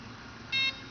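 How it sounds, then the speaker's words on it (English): A single electronic beep from an Align T-Rex 500 70-amp speed controller, clear and steady, sounding once against a low background hum. "you're going to get a series of five beeps"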